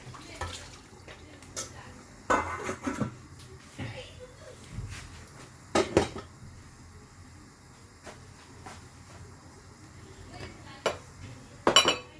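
Boiled fish being transferred into a soup pot, with scattered clinks and knocks of pots and utensils at irregular intervals, faint and close, alongside a quiet talking voice.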